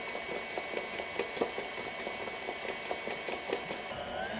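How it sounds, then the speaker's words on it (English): An electric whisk whips egg whites to firm peaks for a New Zealand pavlova, a steady buzzing motor whir with rhythmic rattling pulses running throughout at moderate level. "What I need to do first of all is to whisk them up until you get firm peaks."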